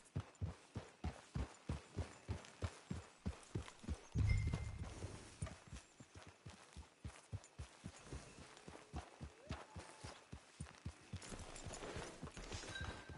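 Horse hooves clip-clop in a video game in a steady, even walking rhythm for the whole stretch, close and moderately loud, with a brief low rumble partway through and no voices.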